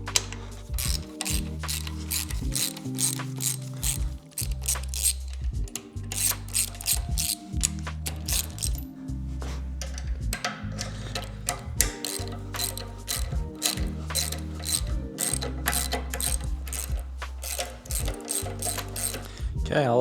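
A ratchet removes bolts from the timing cover of a 351C engine, giving rapid repeated clicking bursts in a steady rhythm, close and fairly loud, over about twenty seconds.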